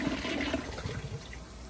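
A 1994 Kohler Wellworth Lite elongated toilet flushes with a steady rushing swirl of water, fairly quiet and continuous throughout, with no voices.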